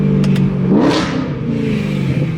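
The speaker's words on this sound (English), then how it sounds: "It's just the freaking sound of this car" A BMW E92 M3 idles with a deep, steady rumble, then gives one quick rev that rises and falls back to idle, loud and close-up.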